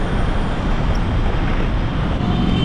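Heavy road traffic on a hot, busy Kolkata street near the VIP Bazar signal, heard from a bicycle as a dense, steady roar of engines and tyres that stays loud throughout with no one speaking.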